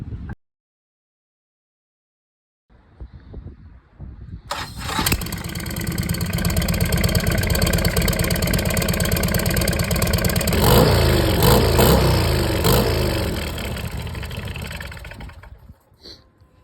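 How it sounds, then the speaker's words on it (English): An engine with no exhaust fitted yet cranks, catches after a few seconds and fires up, then runs loud and raw with repeated revs before dropping back toward the end. "Let's put some gas in this thing and see if she lights."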